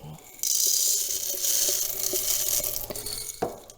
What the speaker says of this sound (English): So I just grind my beans right here in this magic bullet.